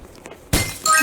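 A glass bridge panel shatters in a Roblox bridge-crossing game: a quiet lead-in, then a sudden bright crash of breaking glass followed by a second burst of tinkling shards.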